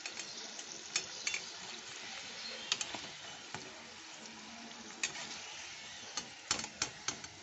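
Tandoori kabab samosas deep-fry in hot oil with a steady bubbling sizzle, broken by sharp crackles and pops scattered throughout, close-up and alone without speech.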